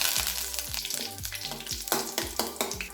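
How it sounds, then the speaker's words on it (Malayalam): Dried red chillies and curry leaves sizzle in hot coconut oil with popped mustard seeds, a tempering for a jackfruit seed and mango curry, giving a steady close crackling fry with no voices. "കടുക് പൊട്ടി ഇതിലേക്ക് 2 വറ്റൽമുളക്,"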